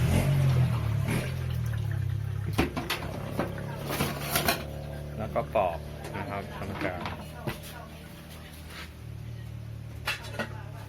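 Bananas being washed in water to strip off their sap, with sloshing and splashing plus dish and pot clatter in a kitchen, close, beneath steady talking.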